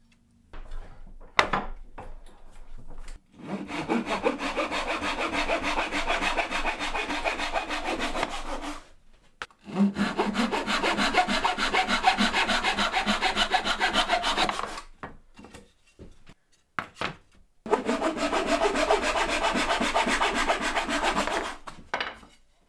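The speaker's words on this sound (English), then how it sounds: "And then I'm going to get it cut down using a pull saw." A pull saw cuts wooden shelf pieces for a Hot Wheels display in three long bursts of steady back-and-forth rasping strokes, loud and close, separated by short pauses with a few knocks and taps.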